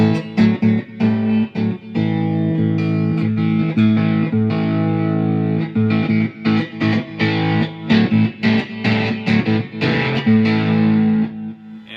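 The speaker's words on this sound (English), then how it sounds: "I've got a distortion pedal plugged in as well. So if you really want to crank it," Humbucker-equipped San Cristobal cigar box guitar played with a slide through a distortion pedal, loud gritty sustained riffs with choppy rhythmic stops and sliding notes, no voice.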